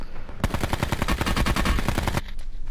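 Automatic rifle fire in Call of Duty Blackout, a rapid steady burst of about twenty close, loud shots lasting almost two seconds, followed by a few fainter trailing pops.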